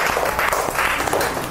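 Students in a classroom clap for a classmate, a short burst of close, loud, dense clapping with some voices mixed in.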